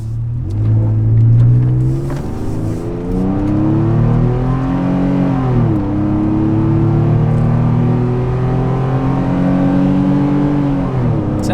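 Nissan Frontier pickup with a Magnaflow exhaust accelerating hard, heard from inside the cab: a steady loud engine drone rising in pitch through the pull, with a brief dip around a gear shift.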